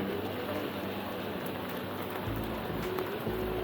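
Rain falls steadily on a Tokyo street, a continuous close hiss and patter with a few soft bird calls over it.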